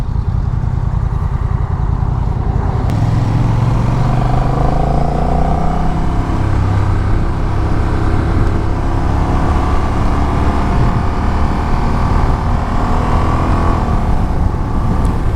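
A Honda Rebel 1100 DCT motorcycle downshifts and brakes to a stop, its engine drone sinking in pitch under a loud, constant rush of wind noise.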